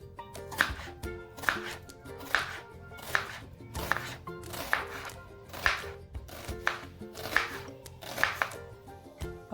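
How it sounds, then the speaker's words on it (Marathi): Four to five onions sliced lengthwise on a board for a spicy dum aloo masala, a knife striking in an even, steady rhythm of sharp close chops with no talk. "आपण वाटण्यासाठी चार ते पाच कांदे घेतलेले आहेत ते तो उभी चिरून घेणार आहोत"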